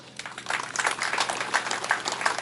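A crowd applauds the Chief Minister at a college gathering, with steady dense clapping that swells after a quiet start and holds for a couple of seconds.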